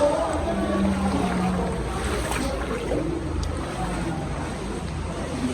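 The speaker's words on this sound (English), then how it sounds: "So I'm in Awuhum Waterfall." Rushing water at Awuhum Waterfall in Nigeria makes a continuous loud roar, mixed with wind noise on the microphone and no clear speech.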